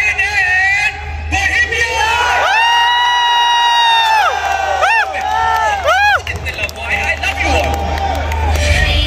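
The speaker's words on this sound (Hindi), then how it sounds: "ऐसी आवाज निकाल दे, ऐसी तालियां बजा दे कि पूरी दुनिया तक की आवाज जाए" A stadium crowd at the Mega Star League in Rawalpindi Stadium cheers loudly, with long whooping shouts and rising yells over a constant roar of voices, close and continuous.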